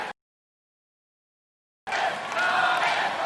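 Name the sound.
crowd cheering at American Ninja Warrior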